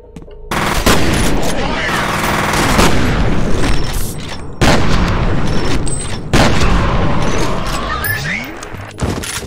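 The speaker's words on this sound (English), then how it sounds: "Okay, shotgun time." Shotgun blasts in the horror shooter F.E.A.R. come as loud, close booms in several heavy bursts with brief silent gaps between them, each trailing into echoing rumble and debris.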